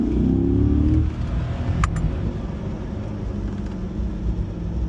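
A 2023 Corvette Stingray's engine accelerates hard on an open road, a loud, rising roar up close that eases into a steady drone after a second.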